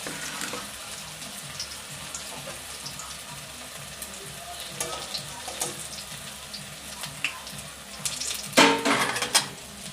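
Drumstick (sajane) leaf pakoras fry in a pan over low heat, a soft steady sizzle running under clinks of utensils against the pan, with louder scraping and clattering near the end.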